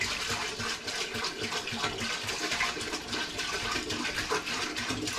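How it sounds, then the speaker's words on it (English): Tap water gushes steadily into a homebrew pot while preparing a blueberry honey ale, a continuous close rushing pour with no talking. "I'm going to pour in a couple gallons"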